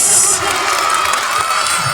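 An audience at a school annual function cheering and shouting for children, a loud close roar of crowd noise with high excited voices throughout.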